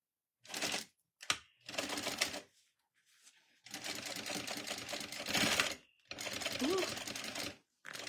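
A sewing machine stitches across a crossbody bag in short, close bursts of fast mechanical clatter, some running back and forth over the same spot, separated by brief quiet gaps.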